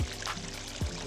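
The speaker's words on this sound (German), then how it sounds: "schaffst du es denn über den reißenden Bach?" A rushing mountain stream being crossed, its steady watery pour and splash filling a short moment with a couple of low thumps, close and fairly loud.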